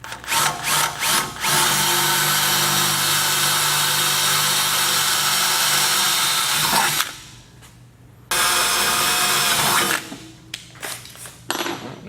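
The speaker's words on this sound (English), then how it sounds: "step up your drill bits until you reach 1/2 inch." A power drill with a bit runs loud and steady for several seconds, stops briefly, then whines again in a shorter burst before a few clicks, drilling a hole for a Ryder Rack Bolt, stepping bits up toward 1/2 inch.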